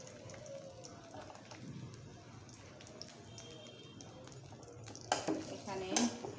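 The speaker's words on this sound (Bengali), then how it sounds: "এখানে পেঁয়াজ রসুনটা ভাজতেছে।" Chopped garlic and onion frying in a pan for a fish-head and taro-leaf dish, a soft continuous sizzle heard close, with light stirring and a few louder utensil clatters near the end.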